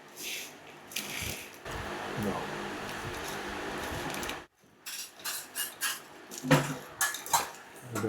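Bhel being mixed in a bowl at home gives scraping, clinking spoon-and-bowl sounds in bursts, broken by a short pause, with faint voices nearby.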